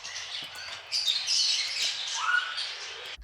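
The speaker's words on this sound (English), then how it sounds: "birds," Birds chirping as a sound sample: a busy layer of high, quick tweets and trills from several birds, close and fairly loud, with no talking.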